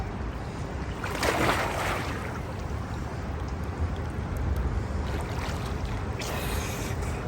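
Rain pours onto an outdoor swimming pool, a steady, dense hiss of drops hitting the water, close and even throughout, with no voices.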